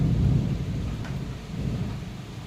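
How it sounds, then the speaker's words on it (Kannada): Loud, deep rolling thunder rumbling continuously, with rain in the background. "ಗುಡುಗು ಎಲ್ಲ ಎಷ್ಟು ಜೋರು ಬರ್ತೈತಿ ನೋಡ್ರಿ"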